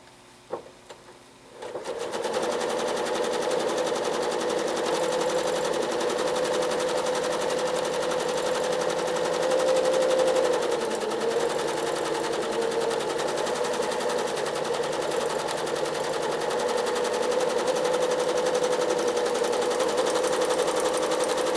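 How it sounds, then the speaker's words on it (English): A sewing machine runs steadily for about twenty seconds, stitching quilting lines in E and F shapes on a circuit-board style quilt, a fast even mechanical whir and rattle that starts after a brief click, close and loud with no voices. "let me unmute so you can hear how to stitch these E's or F's"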